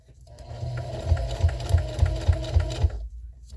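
Close by, a sewing machine runs a short burst of even, thumping stitches on fabric for a jar gripper, speeding into a steady rhythm before stopping.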